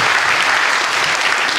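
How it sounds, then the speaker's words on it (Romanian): Steady, dense applause from a lecture audience after a theology talk, loud and close, a continuous wash of clapping with no voices over it. "Aplauze pentru invitația din această seară."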